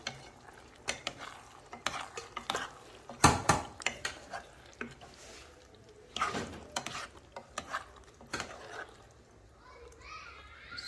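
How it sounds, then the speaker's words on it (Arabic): Gentle stirring of a thick seafood sauce in a kitchen pot, with soft scraping and light clinks of the utensil against the pot coming in irregular bursts while someone talks throughout. "تعالوا بقى كده ايه نقلبه تقليبه خفيفه"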